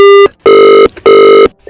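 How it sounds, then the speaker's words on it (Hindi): A telephone rings repeatedly in loud, steady electronic bursts, three long rings separated by short pauses, close and clear with no talking over it. "फोन करे जा रहा है बार बार"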